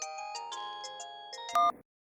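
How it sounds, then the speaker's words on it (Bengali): A cartoon phone ringtone plays alone as a bright, repeating electronic melody of short tones, then ends abruptly after a louder final burst. "এখন আবার কার ফোন দেখি তো।"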